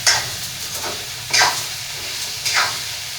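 Drumstick leaves and boiled potatoes are stirred in a pan over a low sizzle, with three distinct scraping strokes of the spoon spaced about a second apart, close and fairly loud.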